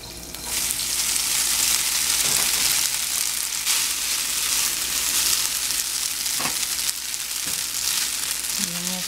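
Cooked spaghetti sizzling in melted butter in a pan, a loud close frying hiss with a few clattering stirs and scrapes of a utensil breaking through.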